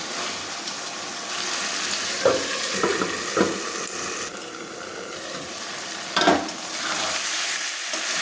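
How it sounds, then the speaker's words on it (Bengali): Jackfruit curry stir-fried in a pan, a soft continuous sizzle with a few sharp clanks and scrapes of a spoon stirring, close up and without speech. "আর একটু ভালো করে কষিয়ে নিলে মোটামুটি রান্নাটা আমার কমপ্লিট হয়ে যাবে।"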